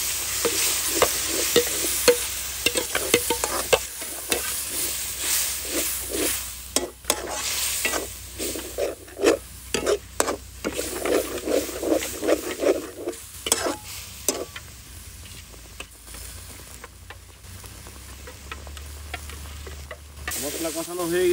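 Spice masala with coriander powder, tomato sauce and yogurt for chicken roast is stirred and fried in a pan, giving a loud sizzle with repeated scraping strokes of the spoon, fading quieter toward the end.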